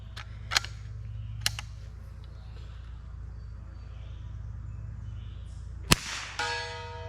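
Several sharp, faint cracks of a .22 LR Aguila Sniper Subsonic round being fired, spaced irregularly over a low steady hum, with the last shot followed by a brief ringing tone.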